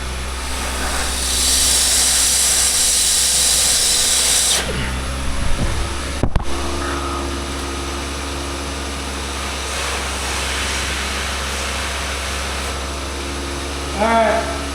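A 2013–2016 Honda Civic engine held near 2,000 RPM after a makeshift exhaust repair, a steady loud hum and rush that drops abruptly partway through to a lower idle drone, with a few clanks.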